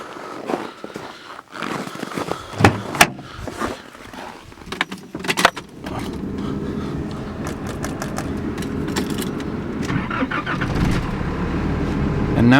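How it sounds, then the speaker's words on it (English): A Nissan Navara D40 pickup starts up: faint clicks and shuffling, then the starter cranks and the engine catches into a steady, close idle drone that holds to the end. "let's start the car"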